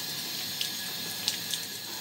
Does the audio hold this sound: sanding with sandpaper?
no